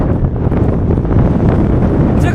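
A violent gale buffets the microphone on open grassland by a lake along a high-plateau cycling route, a loud continuous roar with deep blustery rumble, a voice faintly present beneath it.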